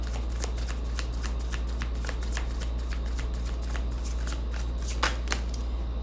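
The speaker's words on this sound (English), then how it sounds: "Let's get 2 more cards and we'll look at the bottom of the deck." Tarot cards being shuffled and drawn from the deck, a steady run of crisp riffling flicks and snaps close by, over a constant low hum, with no one speaking.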